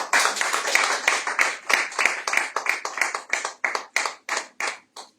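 A church congregation at a Sunday service applauds together, a steady run of bright hand claps that comes in pulsing bursts for several seconds with no talking over it.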